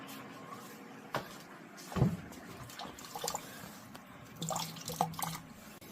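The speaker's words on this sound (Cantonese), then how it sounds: "我哋會再去開翻個水喉，等佢再沖個缸底啲污糟嘢咧" Tap water running through a drained water heater tank to flush out sediment, a soft trickling and splashing flow with scattered drips and a few hollow knocks, fairly close.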